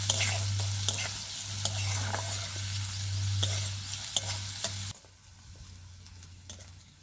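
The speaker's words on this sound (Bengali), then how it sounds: "পেঁয়াজটাকে একটু লাল করে ভাজবো।" Onions fry in a pan for a Bengali rohu fish dish, giving a loud, steady sizzle with crackling pops and stirring scrapes. The frying drops sharply quieter near the end, and a low steady hum runs beneath.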